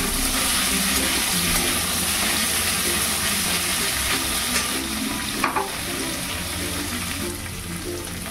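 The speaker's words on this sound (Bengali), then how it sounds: "এবারে হালকা করে এপিট ওপিট করে ভেজে নেব।" Paneer fries in a pan with a loud, continuous sizzle and hiss, broken by a few faint scrapes as the pieces are turned; no voices.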